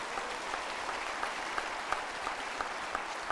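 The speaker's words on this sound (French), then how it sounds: "Je voudrais un applaudissement pour le personnel de la banque et le président de la banque et son équipe" Audience applause for bank staff and the bank president's team at a speech by the president of Côte d'Ivoire, a steady dense wash of clapping with no talk, moderately distant.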